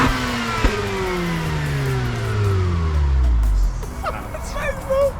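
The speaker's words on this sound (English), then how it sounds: "So now we're going to check out the sound of the exhaust." Mazda RX8 exhaust revving hard, a loud rising and falling engine note with a swooping pitch sweep that drops off, then settles to a rough idle near the end.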